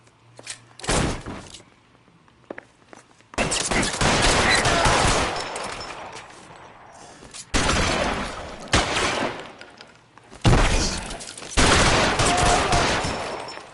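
Bursts of heavy gunfire in LA Noire as shots rake a house, several sustained volleys of rapid shooting with short quiet gaps between, loud and close.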